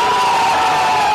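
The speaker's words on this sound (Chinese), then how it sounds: "两旁爆出如雷欢呼" Crowd at a horse race finish line in Rajasthan roaring with loud, dense cheering and shouting, a continuous wash of voices held steadily for the whole moment.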